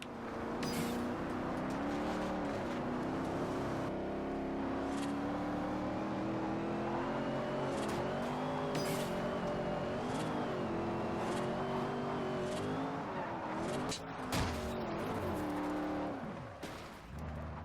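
Engine of a drift car racing through a Forza Horizon street race, revving hard and steadily with rising and falling pitch as it shifts, loud and continuous throughout with no talking.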